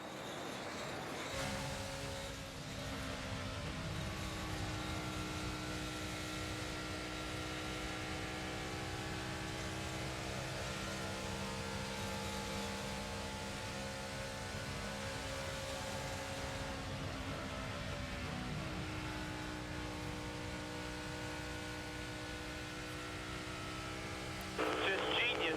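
Onboard NASCAR race car engine with Kyle driving at Charlotte, a sustained high-pitched whine rising and falling through the laps, with a commentator's voice running over it.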